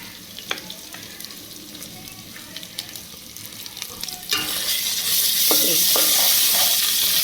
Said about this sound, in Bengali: কিছুক্ষণ একটু নেড়ে চেড়ে মশলাটা একটু কষিয়ে